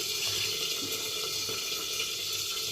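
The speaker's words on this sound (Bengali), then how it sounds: "এই বোয়াল মাছ ভাজা হচ্ছে।" Boal fish frying in a pan, giving a steady, dense sizzle and hiss that holds evenly throughout, close and fairly loud, with no voices.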